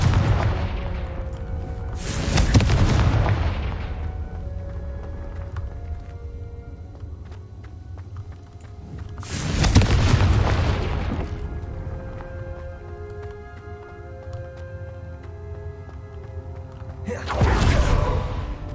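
Three heavy booming blasts of the Confringo fire spell in Hogwarts Legacy, spaced several seconds apart, each loud and sudden over soft game music.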